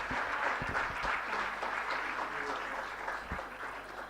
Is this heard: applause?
yes